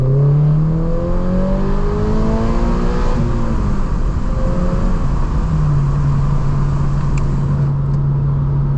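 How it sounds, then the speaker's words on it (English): Lotus Elise exhaust snarling loud and close, its engine note rising and falling through revs with a steady rasp underneath and no voices. "when you are downshifting, you can get like some crackles and pops"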